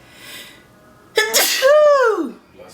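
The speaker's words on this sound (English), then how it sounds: "I'm gonna sneeze." A single loud sneeze bursts out after a quiet moment, with a sharp intake and a falling, nasal release.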